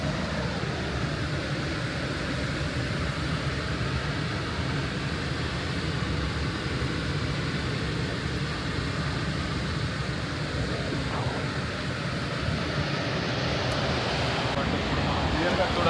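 Constant broadband rush of the Falls of Clyde waterfall in Lanarkshire, Scotland, flowing water roaring steadily and evenly for the whole stretch with no breaks.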